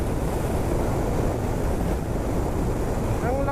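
Strong wind buffets a microphone on a moving motorcycle, a loud, steady, broadband roar that lasts the whole time with no break.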